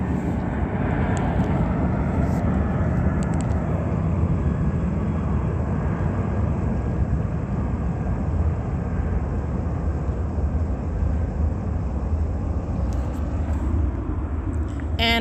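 A fixed-wing airplane passes overhead above a museum, its broad engine roar steady and loud for the whole stretch, with no talk.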